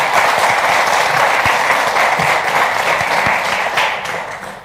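Loud, dense audience applause at a French-language live café talk event, sustained for several seconds with a few sharper claps standing out, then tapering slightly at the end.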